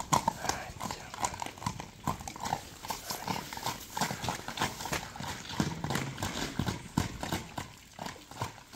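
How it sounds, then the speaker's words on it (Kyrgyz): Horses being walked on display for sale make a close, steady rhythm of clip-clopping hooves, with faint background sounds between steps. "Жанагы аттары бери бастырып мындай көрсөтүп берейин достор."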